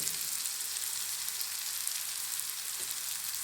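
Onions frying in a pan for samosa filling, a soft, steady sizzle and crackle running evenly throughout without any talk.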